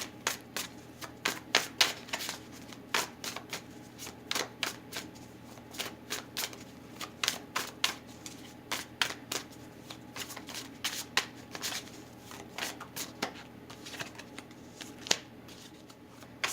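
A deck of After Tarot cards being shuffled by hand, with quick, close papery riffles and slaps repeating in irregular bursts and no voice over them.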